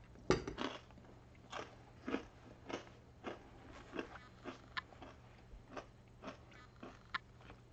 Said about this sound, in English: I'm very professional with my super crunchy snacks.